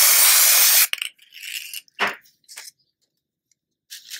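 A sharp hissing burst from an aerosol glitter spray can lasting nearly a second, sprayed onto shrink plastic beads, followed by quieter scrapes and small handling sounds.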